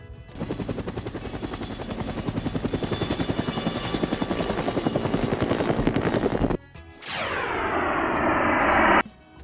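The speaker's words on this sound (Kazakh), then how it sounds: "тік ұшақ" A helicopter's rotor chops in a loud, rapid, steady beat close by, then cuts off and gives way to a high whine that falls in pitch before stopping.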